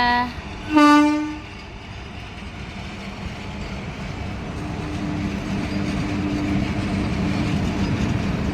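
A train horn sounds once, loud and close, then the rolling rumble of a train passing nearby continues steadily.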